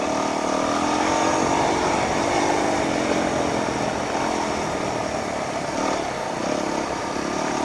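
A small dirt bike riding across soft sand, its engine droning steadily at mid distance with slight rises and falls in revs and no speech.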